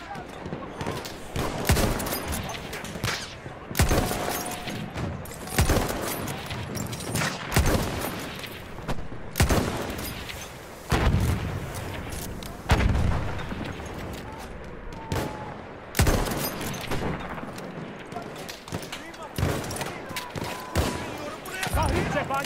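Repeated blasts and bursts of gunfire in Battlefield 1 hit in rapid, uneven volleys, with louder explosive impacts standing out every few seconds against a constant roar of battle.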